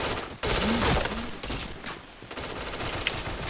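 Rapid bursts of gunfire from a shooter video game, loud and dense, with a brief gap then more shots continuing steadily to the end.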